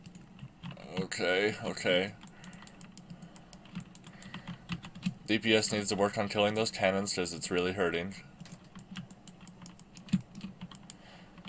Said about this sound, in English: Sorry if you can hear my keyboard as well.